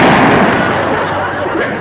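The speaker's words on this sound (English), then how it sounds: "Jethro shot a fox." A single loud gunshot from a shotgun fired at a fox, a sharp blast whose boom and rumble carry through the whole short moment, with a faint voice underneath.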